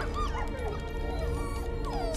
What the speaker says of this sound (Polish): Kosmo to jest pies gadający.